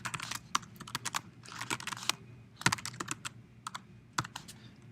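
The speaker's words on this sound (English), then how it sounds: "You're going to type in your client name." Typing on a computer keyboard to enter a client name into an online order form: quick bursts of clicky keystrokes with short gaps and a few sharper key hits, close and clear, with no talk.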